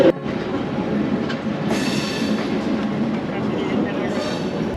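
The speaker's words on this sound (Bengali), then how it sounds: "আমাদের ট্রেন এই অযোধ্যা ক্যান্টনমেন্ট ছেড়ে বেরিয়ে যাচ্ছে" Seen from on board, the Doon Express pulls out of Ayodhya Cantonment station, its cars rattling and clacking in a steady close rumble, with faint wheel squeal and voices in the background.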